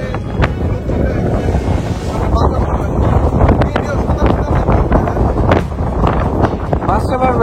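A trawler crossing open water near Gangchil Island in Rangamati, with steady wind buffeting the microphone and a dense, continuous wash of engine and water noise, while voices murmur faintly underneath.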